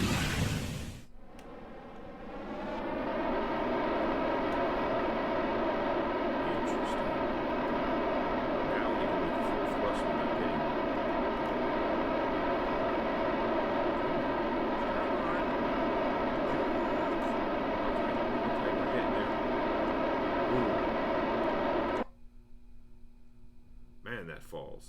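Spaceship thrusters fire in a video game as a steady, loud engine-like roar that holds for about twenty seconds, then cuts off abruptly. Faint speech runs beneath it.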